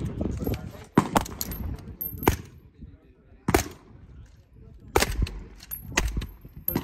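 Rifle shots at a military base crack out one by one at irregular intervals, sharp and loud against a quiet background, with faint voices between them.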